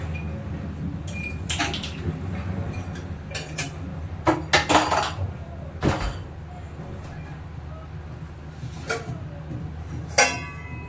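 Dishes and pots clink and clatter in a home kitchen during washing, with scattered sharp knocks over a steady low hum, loud and close, no talk.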